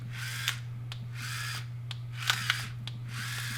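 Pepper being ground from a hand pepper grinder over eggs cooking in a pan, a few soft gritty bursts of grinding over a steady low kitchen hum, close and fairly quiet.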